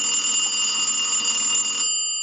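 An Automatic Electric three-slot payphone bell rings in a loud, steady metallic trill for nearly two seconds, then stops abruptly with a brief ringing decay.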